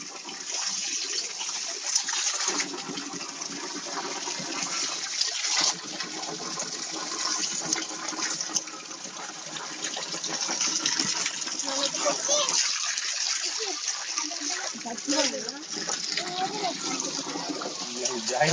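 Spring water pours steadily down from the forest above a hillside temple, a constant close rushing gush with people talking over it throughout.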